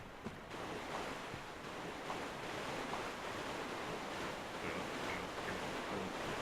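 A Dark Souls 3 character wades through water in a tunnel, giving a steady, continuous washing and sloshing noise, broadband and even in loudness throughout, with no talk over it.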